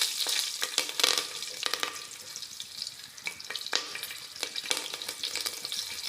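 Chillies and onion frying in hot oil for chicken biryani, a close, continuous crackling sizzle with stirring scrapes and clicks of a spoon against the pan.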